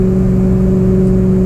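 A Ford 6.0 Powerstroke diesel pickup drones loud and close under load while towing up a hill, a steady, unbroken engine hum with strong low tones and no voices.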